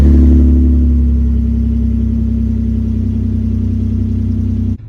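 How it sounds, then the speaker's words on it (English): A Nissan engine cold starts and settles into a steady, loud rumbling idle close by, with a strong low drone that holds for several seconds before cutting off abruptly. "let's get us a cold start of the Nissan"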